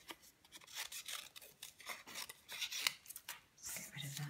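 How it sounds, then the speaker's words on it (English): Small Stampin' Up craft scissors snip paper crisply several times in quick, uneven bursts, close and fairly quiet, with light paper rustling between cuts. "The Stampin Up little snips, they make it so easy to do."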